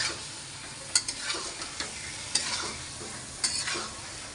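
Hilsa fish being stirred in a sizzling pot, with a steady frying hiss throughout and three sharper scraping clinks of the spoon against the pot spaced a second or so apart.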